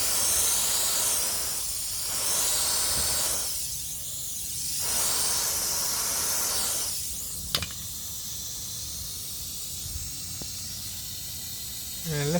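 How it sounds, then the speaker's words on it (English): A spray bottle mists water onto a car surface during a test of Fortify Shine Armor wash and protect, giving several long hissing bursts close to the mic, followed by a sharp click and quieter handling noise. "let's try to spray on some water"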